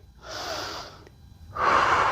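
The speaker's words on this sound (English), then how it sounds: "We're breathing." A person breathes deeply during a strength and mobility workout, drawing one audible breath and then releasing a stronger, louder exhale a moment later, both close to the microphone.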